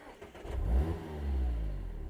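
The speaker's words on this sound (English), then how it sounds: "Just gives it a little vroom as you start it up" A 2024 Mazda MX-5 GT RS with a manual gearbox starts up and blips its own revs once, a short near vroom that rises and settles into a steady idle hum with no one speaking.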